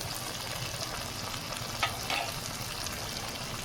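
Cumin powder frying in hot oil for a restaurant-style chana masala, a steady soft sizzle with a couple of brief stirring scrapes near the middle, no voices.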